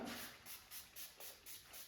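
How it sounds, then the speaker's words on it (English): Volume and lift hair spray pumped onto hair during a pixie cut, heard as a series of short, faint hissing bursts in a steady rhythm, about six squirts, close by with no talk. "We are going to put some volume and lift spray in it, which I absolutely love."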